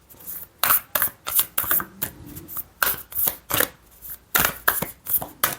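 Tarot cards are shuffled and drawn by hand, giving a quick rhythmic series of crisp slaps and riffles close up, about a dozen bursts in under six seconds.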